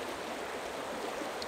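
A creek flows past melting, slushy ice, a steady close rush of water that keeps an even level throughout, with no voices.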